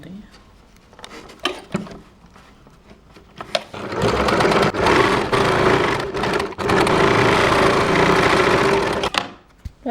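A sewing machine stitches the side seam of a baby frock, starting with a few short stops and starts, then running loud and close in two long, continuous bursts.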